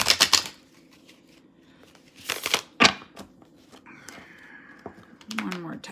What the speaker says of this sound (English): I'm going to shuffle them again so that you know that they have been thoroughly shuffled